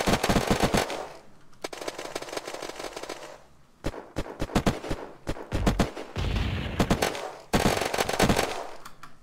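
Gunfire in the video game Unturned, with rapid automatic bursts and single loud shots that repeat in uneven clusters throughout, close and sharp, with short pauses between volleys.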